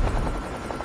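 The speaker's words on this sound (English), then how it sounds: "Hostile stealth chopper inbound." Stealth chopper from Call of Duty Mobile, a steady rotor whir heard briefly and fairly loud, alone without voices.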